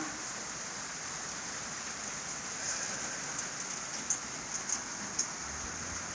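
Rain falls steadily on a cattle farm where newborn calves are kept, a dense even hiss with a few closer drips and taps standing out near the end.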